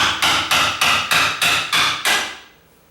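Metal hammer taps a door's bottom hinge pin out through a nail or screwdriver, eight sharp, evenly spaced close strikes about every third of a second, each ringing briefly before the last fades.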